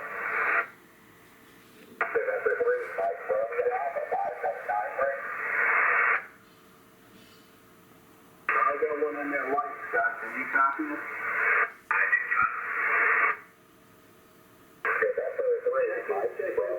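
Yaesu FTDX10 ham radio receiving with the squelch turned up, bursts of band-limited radio voice transmissions cutting in and out, with the receiver going fully silent between each transmission.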